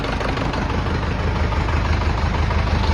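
A DW 504 SDX farm tractor engine runs loud and close with a constant low, rough diesel drone as it pulls away, steady throughout.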